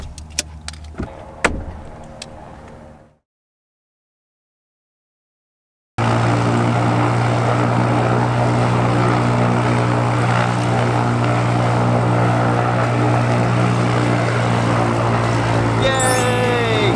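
A light propeller aircraft engine runs steadily with a loud, constant droning hum that begins abruptly after a short quiet gap and holds evenly to the end.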